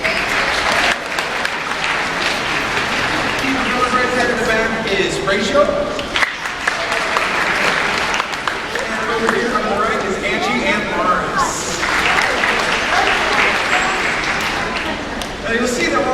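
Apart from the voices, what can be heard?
aquarium show audience applause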